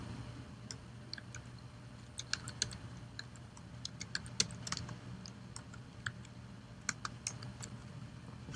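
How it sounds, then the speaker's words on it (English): Irregular soft key clicks from someone typing a command on a computer keyboard to run an Adobe Reader 9.4.5 administrative installation and patch, scattered taps over a low steady hum, with no talk. "we're going to type the command to run the administrative installation and then the patch"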